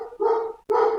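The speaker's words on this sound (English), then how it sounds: "Excuse my dog." A pet dog barks twice in quick succession, loud and close, with a brief pause between the yaps and no talking.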